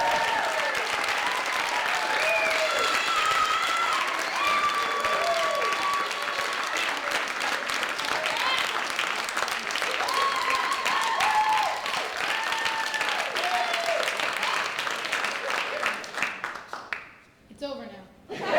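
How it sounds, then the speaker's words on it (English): A comedy club crowd at Gotham Comedy Club claps and cheers for a comedian coming on stage, sustained dense applause with some laughter, then fading out and cutting off near the end. "Please give a very warm round of applause for Graham Janovic"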